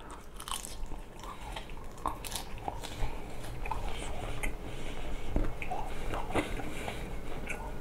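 Close, quiet chewing of grilled coffee-flavour cured back bacon, soft crunches and moist bites repeating over low background noise, with no voices.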